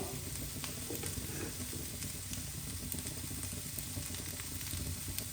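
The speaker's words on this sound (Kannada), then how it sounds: "ಇದು ಚೆಂದ ಫ್ರೈ ಆಗಬೇಕು ಬೆಂಡೆಕಾಯಿ" Sliced okra fries in fish gravy in a pan and is stirred, giving a steady, close, continuous sizzle with faint scraping throughout.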